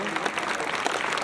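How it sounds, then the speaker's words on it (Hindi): Loud, hearty applause from an audience welcoming a guest at a government higher secondary school function, dense continuous clapping filling the whole brief moment. "जोरदार तालियों से स्वागत करो।"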